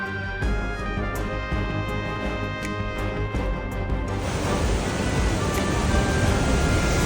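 Water rushes past hikers' feet on the Kedarnath trek. A steady roar swells in after a stretch of tonal music and then holds, loud and close, to the end.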